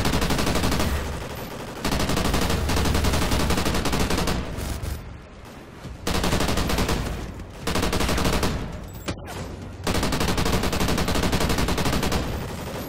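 Machine gun fire in the Call of Duty: Ghosts campaign mission Clockwork: long, loud, sustained bursts of automatic fire broken by brief pauses, dense and continuous, with no talking.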